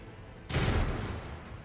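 A single burst of gunfire from a weapon in the Warhammer 40,000: Rogue Trader video game, a sudden loud blast of rapid shots that starts abruptly and then holds as a dense roar before easing off.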